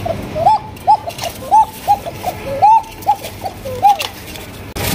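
Pigeons coo in a series of short, rising calls spaced about half a second apart, close and clear over a faint busy background.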